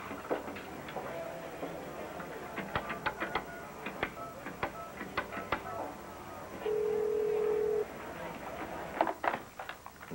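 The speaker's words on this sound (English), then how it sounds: "I need to make a phone call" A telephone is dialed to place a call in a quiet room: a run of quick clicks and tones, then a steady single tone for about a second, with more clicks after, all fairly faint.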